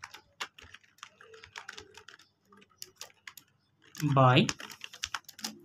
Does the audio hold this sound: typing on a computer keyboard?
yes